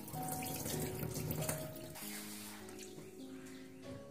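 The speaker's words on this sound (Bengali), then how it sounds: "দেখুন আমরা ফেলে দিচ্ছি নোংরাগুলো জলের সঙ্গে" Water running over flattened rice in a vessel as it is rinsed and the dirty water drained off, a continuous close splashing and trickling stream, with no talk.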